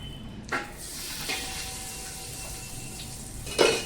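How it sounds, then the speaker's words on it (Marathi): Dry fruits fry in a small amount of ghee in a pan, giving a soft, continuous close-up sizzle punctuated by a few brief stirring clatters, the sharpest one at the end. "हे सगळे जे ड्रायफ्रुट्स आहेत ना हे मी छान मस्तपैकी फ्राय करून घेते"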